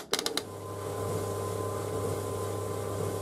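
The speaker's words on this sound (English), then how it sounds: "It sounds like an induction motor machine, really." A White Knight C38AW compact reversing tumble dryer motor starts after a few quick clicks, then settles into a steady, even electric hum that stays level and moderately close for the rest of the stretch.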